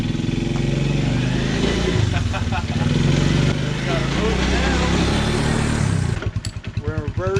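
A 1985 Honda TRX 125 ATV engine drones steadily in first gear while riding, a close, rough single-cylinder hum that runs throughout, with a voice speaking near the end as the engine note drops back.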